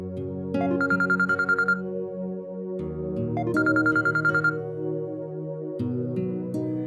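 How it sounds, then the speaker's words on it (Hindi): Phone ringing with a repeating melodic electronic ringtone, two bursts of trilling tones over a sustained musical backing, close and clear with no talking. "अब्बू आपका फोन आ रहा है"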